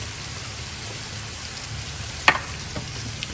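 Ground beef fries in a pan with a steady, close crackling sizzle throughout, broken by one sharp clatter of a utensil partway through and a couple of softer taps after it.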